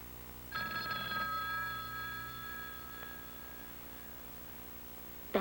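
A telephone bell rings out in one sustained burst near the start, its tone ringing on and fading while the room otherwise stays quiet.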